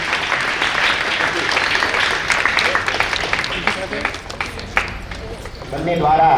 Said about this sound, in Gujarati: આપણે જોરદાર તાળીઓના ગડગડાટથી આ ક્ષણને વધાવી લઈશું.